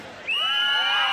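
A festival main-stage crowd erupts into loud, sustained high-pitched screaming and cheering that swells suddenly and holds steady.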